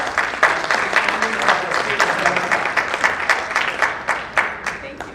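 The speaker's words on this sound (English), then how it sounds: "Please give her a big round of applause." Audience applause at an evening reception honoring women of excellence, a crowd clapping steadily, with sharper individual claps standing out as the applause gradually thins toward the end.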